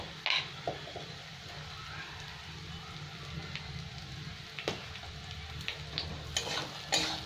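Ground coriander-cumin powder, salt and garam masala fry in a pan with a soft, continuous sizzle, punctuated by light scraping and tapping of the spoon against the pan.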